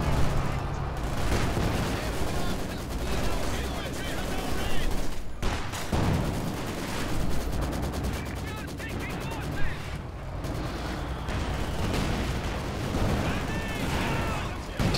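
Mortar and artillery fire in the Company of Heroes 2 video game rattles and thumps continuously, with dense gunfire and periodic booms layered into a loud battle din while a commentator talks throughout.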